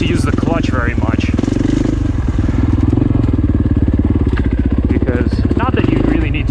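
A KTM 350 or Husqvarna FE501 dirt bike engine runs loud and steady while riding, a continuous rumbling drone with quick pulsing firing beats throughout.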